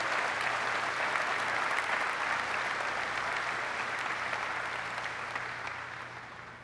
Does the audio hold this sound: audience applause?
yes